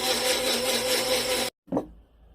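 A blender grinds bellflower root covered in water into a smooth liquid, whirring loudly and steadily for about a second and a half, then stopping abruptly, followed by a brief clunk and faint handling noise.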